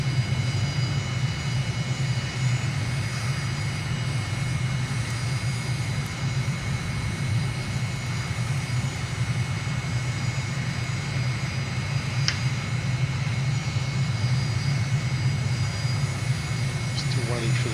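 Aircraft engine drone during a landing approach in Microsoft Flight Simulator, a loud, steady low roar throughout with a brief click partway through and talk over it.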